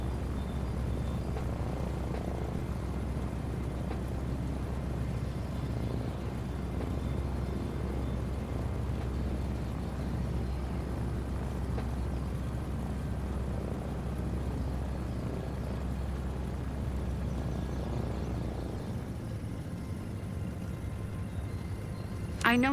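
Droning propeller engine of a DHC-2 in Microsoft Flight Simulator 2024, a steady low hum with faint rattling throughout, with a change near the end as the drone drops away.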